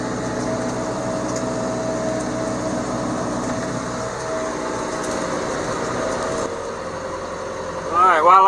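A tractor with a front loader runs with a steady, rumbling engine drone, close and constant, shifting slightly in tone near the end.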